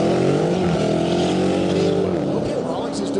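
A Dodge Hellcat roars at high revs while spinning its tires in a burnout on a drag strip at Roadkill Nights, a loud, sustained engine howl with event commentary over it.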